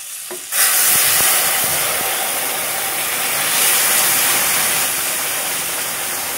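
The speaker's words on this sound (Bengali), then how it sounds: "আর চারিদিকটা কি হয়ে গেল দেখো, এত পরিমাণে ফুটলো জলটা" Water boils vigorously in a cooking pot in a home kitchen, a loud, steady, hissing bubble that starts after a brief quieter moment and continues unbroken to the end.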